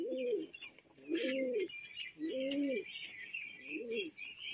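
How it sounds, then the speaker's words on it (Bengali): A large long-bodied male Kalshira pigeon coos close by in four evenly spaced, rolling low coos, each about half a second long, over a faint background hiss with a few light chirps. "একটা নর পায়রা, অনেক বড় লং সাইজের পায়রা রয়েছে"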